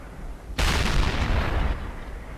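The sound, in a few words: tank gun firing in video game World of Tanks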